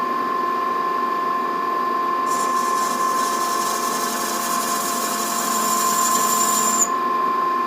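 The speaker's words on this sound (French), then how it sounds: "je vais donner un petit coup d'alésage ici pour que ça tourne bien rond" Hole being reamed in a metal prototype holder on a machine, a steady mechanical drone with a bright high whine that starts partway through and cuts off near the end.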